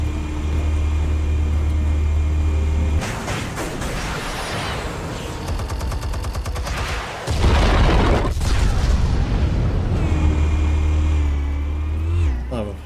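Explosives detonating in the game Batman: The Telltale Series, with heavy booming blasts and a roaring rumble in two large bursts over a steady low engine-like drone, loud and close.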